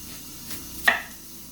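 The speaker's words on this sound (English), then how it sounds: "I'm cutting my onion." A knife cutting through an onion on a board, giving one sharp, close chop that stands out from a quiet background, with no talking.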